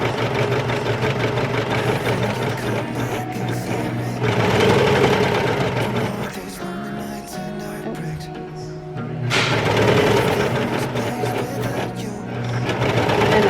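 Brother 1034DX serger stitching baby romper fabric along a curved crotch seam, running in steady rapid bursts that briefly slow and pause before speeding up again.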